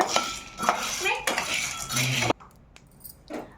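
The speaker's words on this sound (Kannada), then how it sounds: "ಕಡ್ಲೆಕಾಳನ್ನು ಇದೇ ಥರ ಹಾಕ್ಕೊಂಡು ಕೆಂಪಗಾಗಂಗೆ ಹಳ್ಳಾಗಂಗೆ ಹುರ್ಕೋಬೇಕು ಚೆಂದಾಗ" Chickpeas dry-roasting in a pan for a Nag Panchami festival sweet, rattling and scraping loudly and steadily for about two seconds before dropping to a faint, sparse clatter.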